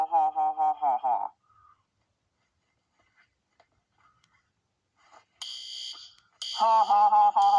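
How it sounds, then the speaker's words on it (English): A fire alarm in a cartoon school setting rings out in loud bursts of harmonic electronic tone, with one burst at the start, a gap of near silence with faint bits, then shrill high beeps and a final loud ringing stretch. "Uh-oh, the fire alarms are on."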